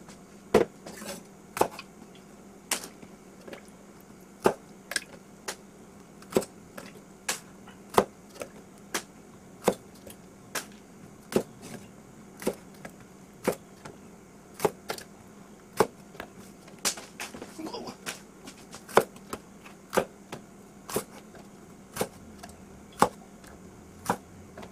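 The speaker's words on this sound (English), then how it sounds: "I'm going to just cut the stems off, throw the stems away" A knife slices the stems off whole jalapeno peppers on a cutting board, making crisp, quiet chops at a steady pace of roughly one per second over a soft background hum, with no one speaking.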